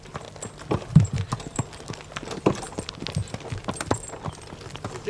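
Horse hooves clip-clopping on a hard surface in an uneven, steady walking rhythm, moderately close, with faint voices in the background.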